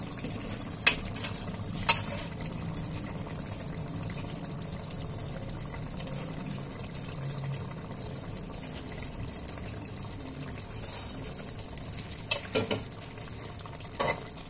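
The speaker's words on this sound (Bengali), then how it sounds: "হালকা হাতে একটু নেড়ে দেব" Pieces of potato and lentil barfi are gently stirred in a pan over low heat, giving a soft, continuous simmer and bubbling with occasional sharp clicks of a utensil against the pan.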